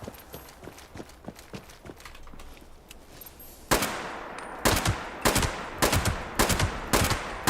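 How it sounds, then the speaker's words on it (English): Cultists in a video game fire radium rifles: faint scattered shots at first, then a run of loud, sharp rifle cracks in an irregular rhythm. "I wonder why these cultists are using radium rifles."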